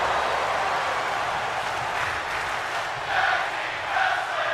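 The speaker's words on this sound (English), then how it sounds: "The audience now cheering tag team wrestling." A wrestling crowd at a tag team match cheers and roars in a steady, dense wash of noise, swelling slightly near the end with no clear voice standing out.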